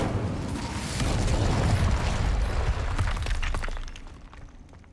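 Incendio fire spell cast in Hogwarts Legacy, a loud burst of roaring flame and crackling, shattering noise building up and holding for a few seconds, then tapering off into quiet.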